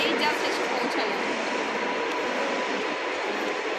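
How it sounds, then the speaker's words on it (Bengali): A steady, broad rumble of a train passing close by, constant in loudness throughout with no clear rises or breaks. "এই যে একটা ট্রেন গেল"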